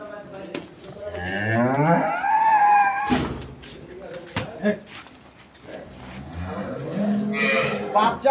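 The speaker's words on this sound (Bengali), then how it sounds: "বাচ্চা আর গাভী দেখেন," A dairy cow and her calf moo on a farm: long, loud, drawn-out calls close by, followed by fainter animal sounds and a brief voice.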